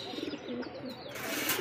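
Fancy pigeons for sale coo softly nearby in a short, low, burbling phrase, joined by faint chirpy bird sounds in the background.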